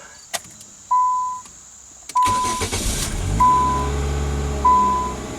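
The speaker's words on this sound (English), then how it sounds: "let's start the car" A car engine with its check engine light on (P0500 vehicle speed sensor code) cranks and catches, then settles into a steady idle, with repeated electronic chimes and a few clicks nearby.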